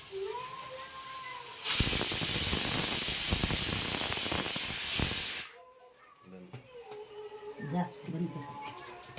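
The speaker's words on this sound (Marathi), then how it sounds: "तर आपण याला डाळ शिजण्यासाठी 1 शिट्टी देऊया आपण" A pressure cooker cooking dal lets out one loud, sustained steam whistle and hiss for about four seconds, then cuts off sharply, followed by faint kitchen sounds and voices.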